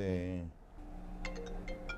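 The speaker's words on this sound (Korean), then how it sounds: "한창 작업에 열중하는 대표에게 걸려온 의문의 전화 한 통." An office phone rings with an incoming call as a company representative works on LED transparent film; a short electronic ring pattern repeats several times over a low steady hum, with no talk.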